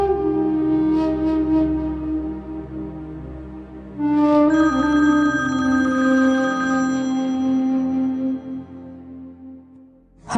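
A telephone rings loudly and nearby in a dramatic indoor scene, its tonal electronic ringtone repeating in steady bursts with no speech over it.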